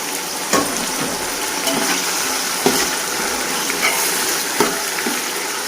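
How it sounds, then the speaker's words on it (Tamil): Large onions frying in a pan for chicken biryani, a continuous close sizzle with occasional sharper crackles and stirring scrapes spaced through it, no talk. "நல்லா பெரிய வெங்காயம் வந்து நல்லா பொன்னிறமாக வதங்கணும்."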